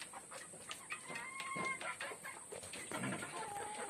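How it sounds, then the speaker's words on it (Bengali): Laying hens on a small native-chicken farm cluck softly and repeatedly, several birds close by, with a few drawn-out calls among the short clucks over a quiet background. "আমার এখানে কিছু ডিম পাড়া মুরগিও আছে"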